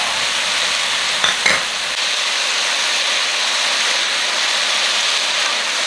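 Potatoes and carrots stir-frying in oil with a steady hiss of sizzling across the whole stretch, a couple of brief utensil scrapes early on, no voices.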